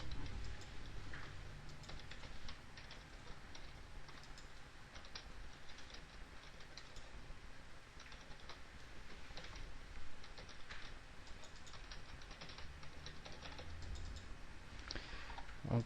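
Computer keyboard typing, a steady stream of light, close key clicks continuing for the whole stretch, no voice over it.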